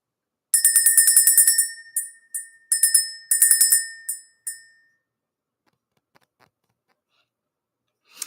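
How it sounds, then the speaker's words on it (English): A small handheld bell, rung to clear the energy, chimes in rapid bright bursts: a long continuous peal, then several shorter shakes, fading out into near silence with a faint tap at the end. "Let's ring the bell."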